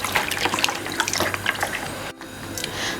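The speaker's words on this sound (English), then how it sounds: "I'm going to start by washing my meat" Beef being washed under running water in a kitchen while cooking palm nut soup, a steady splashing flow with drips and shifting liquid noise, close and alone.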